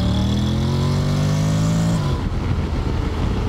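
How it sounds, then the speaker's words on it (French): Honda X-ADV 750 motorcycle engine revving up almost to the rev limiter with a rising, steady drone, then an abrupt drop as the gear changes, followed by rough engine and road noise, loud and close. "il est monté jusqu'au rupteur presque avant de changer la vitesse pour permettre de profiter au maximum de la puissance que délivre la moto"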